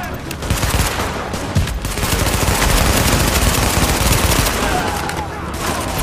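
Dense, continuous gunfire in The Division video game, with rapid overlapping shots forming a loud, sustained barrage for the whole stretch.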